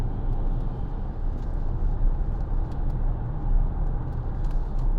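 Inside a 2014 Vauxhall Insignia 2.0 CDTi SRi diesel picking up speed toward 70 mph, a steady deep engine and road drone fills the cabin, loud and even, with no voices.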